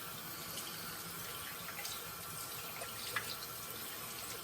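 A tap runs in a steady, soft stream over a sink while a bar of bear tallow soap is rinsed, with a faint constant hiss and no voices.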